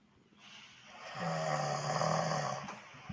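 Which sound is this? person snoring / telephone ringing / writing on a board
person snoring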